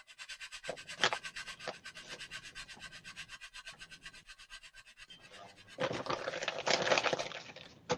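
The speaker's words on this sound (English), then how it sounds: "the easiest way to do that is to put no weight on the sander when you're sanding" A sander run with no weight on it smooths body filler flat, making soft, rhythmic rubbing strokes that swell into a louder, denser rasp near the end, with no voices.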